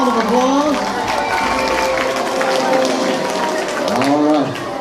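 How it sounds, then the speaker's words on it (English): An audience applauds the 5th-grade winners of a math competition, a dense, steady wash of clapping and crowd noise with voices calling out over it near the start and end. "Give them all a round of applause."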